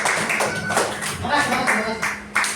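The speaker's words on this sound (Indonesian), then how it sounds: "Tepuk tangan semua." Audience applause at an Indonesian classroom talk on digital literacy, a group clapping steadily for a couple of seconds with voices mixed into the crowd noise.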